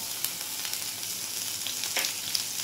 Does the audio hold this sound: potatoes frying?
yes